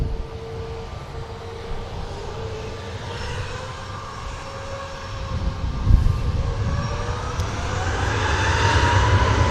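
A Ryanair jet airliner departs at an airport, a distant engine roar that builds gradually and grows louder toward the end, heard alone without talk.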